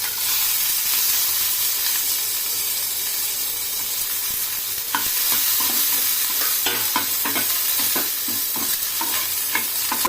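Urad dal and small onions fry in hot oil in a pan, giving a loud, continuous sizzle and hiss, joined midway by sharp, repeated stirring scrapes close up.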